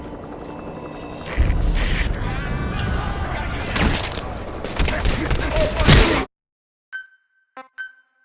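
Rapid bursts of gunfire ring out in Metal Gear Solid V: The Phantom Pain, loud and close with dense volleys over several seconds, then a sudden drop to near silence broken by a few brief faint clicks.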